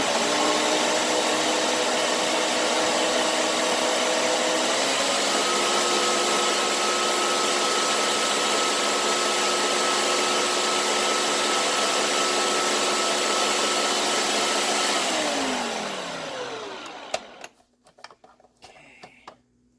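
A blender runs on high pureeing bananas, a loud, dense motor whir whose pitch shifts slightly as the mixture churns, then winds down and stops near the end, followed by a few faint clicks and knocks.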